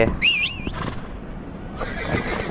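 A horse whinnies loudly in a cowboy-themed video game, a rising and falling neigh up front, followed by a burst of game noise and faint hoofbeat-like clatter.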